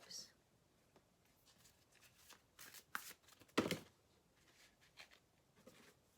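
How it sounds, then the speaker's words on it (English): Tarot cards drawn from a deck: soft papery slides and flicks come in scattered bursts, with one louder riffle near the middle, quiet and close, with faint breathy murmuring around them. "I'm going to pull like 3 more cards."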